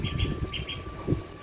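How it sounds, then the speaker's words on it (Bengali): A tailorbird calls from a garden near a custard apple tree, giving short, bright chirps in two quick pairs over a low background murmur. "একটা টুনটুনি পাখি ডাকতেছে"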